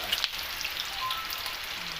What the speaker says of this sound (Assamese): গাহৰি মাংস কেৰাহীত মাংস বনাবলৈ